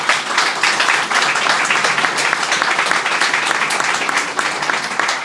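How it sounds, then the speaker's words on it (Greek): Sustained audience applause greeting an author at a book presentation, dense steady clapping from a crowd filling the room for several seconds without a break. "Θα ήθελα να την υποδεχτείτε έτσι με ένα ζεστό χειροκρότημα"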